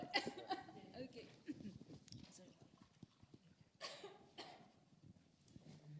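A woman coughs on stage during a leadership panel at a conference, a few harsh coughs from a nearby microphone, mixed with murmurs and light laughter from the room.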